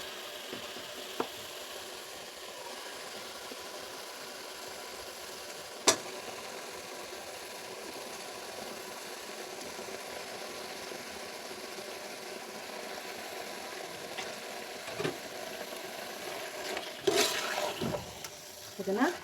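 Washed mutton frying in masala in a pan, a faint low sizzle running steadily with occasional sharp clinks and scraping stirs, louder bursts near the end.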